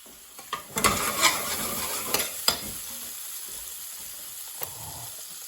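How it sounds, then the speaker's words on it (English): Spices and green chilies sizzle in a pan for a black pepper chicken curry, a steady bright hiss close by with a few stirring scrapes and clacks early on, no talking. "cook your spice for a couple of minutes just to infuse the spice"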